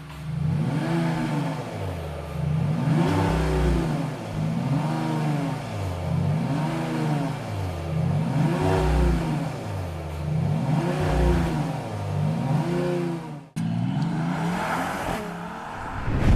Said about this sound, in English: and then you have the sport exhaust. So the AMG E53 exhaust.